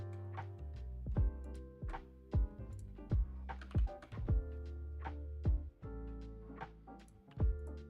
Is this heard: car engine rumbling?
no